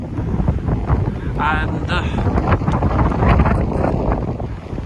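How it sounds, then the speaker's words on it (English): Strong wind on a blowy December day on an open heathland walk to the Agglestone rock buffets the microphone with constant low roaring gusts, and a voice speaks briefly over it. "it's quite a blowy December day. So hopefully you can hear some of this, and the wind noise isn't too bad."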